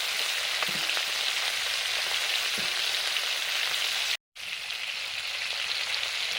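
Spices crackle and sizzle steadily in hot oil while being tempered for a chutney, a dense continuous frying hiss with scattered pops, briefly cutting out for a moment before resuming.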